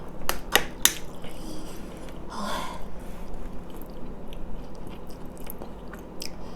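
Grilled frogs filled with eggs being bitten and chewed close up, a few sharp crunchy bites at the start followed by one softer squishy chew, then quiet.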